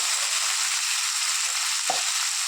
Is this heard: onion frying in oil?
yes